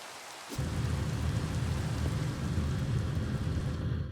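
Rain in the video game Sky Factory 3 sets in abruptly and keeps up as a dense, steady hiss with a low rumbling undertone, loud and continuous.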